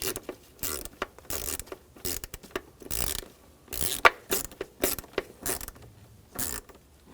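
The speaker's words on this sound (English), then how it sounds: "we'll use the 6mm socket to tighten this down as well" A 6mm socket on a ratchet tightens a hose clamp on the idle air control valve tube of a 2000-2006 BMW X5 3.0L, giving close, bursty runs of rapid clicking across repeated strokes with short pauses between them.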